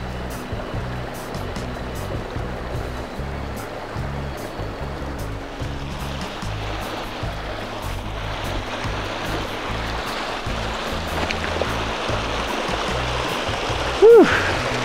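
A river on rural land in Ecuador rushes in a continuous broadband wash, steady and fairly close, with a brief higher tone near the end.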